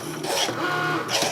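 A Cricut Maker cutting fabric whirs and hums steadily at close range, with a mechanical tone that shifts as the blade carriage moves across the material.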